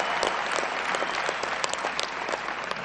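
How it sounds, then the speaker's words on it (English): Loud crowd applause fills a mayoral election victory speech in New York City, dense continuous clapping with scattered sharp claps standing out, no talking over it. "Give them a round of applause."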